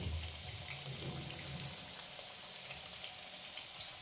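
Egg chilli sizzles steadily in a pan of hot oil, a soft continuous crackle with scattered light pops, fairly quiet and with no voices.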